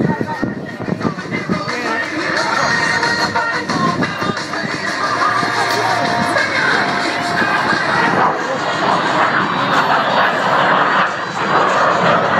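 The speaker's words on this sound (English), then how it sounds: "Blue Angels 5 and 6 are rolling" Blue Angels jets, numbers 5 and 6, roll down the runway for takeoff at an air show, a loud continuous roaring jet engine rumble that builds and holds, with a public address voice audible underneath.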